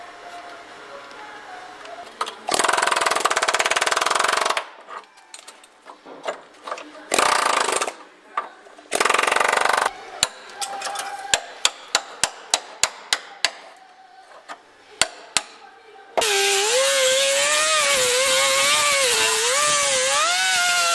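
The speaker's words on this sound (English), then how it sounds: "I'm gonna just grind shit down and see what I got." An angle grinder works on rusty car body metal during rust repair, cutting in with loud whining bursts that stop and start, broken by sharp taps and closing on a long, steady grind.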